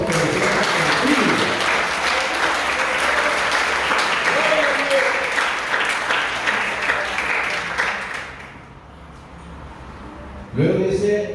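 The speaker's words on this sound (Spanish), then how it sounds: "Me gustaría que le dé un aplauso al Señor porque lo tiene contigo." A church congregation applauds during a Bible study sermon, loud sustained clapping for about eight seconds that fades out, followed by a brief burst of speech.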